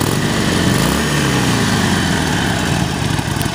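A 2019 Harley-Davidson Sportster Iron 1200 XL 1200NS with a 1200 cc Evolution V-twin engine and five-speed transmission runs loud and close, a steady idling rumble with a brief rise in revs near the start.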